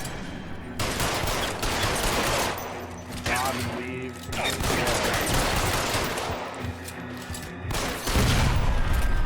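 Dense bursts of gunfire and heavy explosions from the L.A. Noire video game roar almost nonstop, loud and close, with a brief player voice speaking over the shooting.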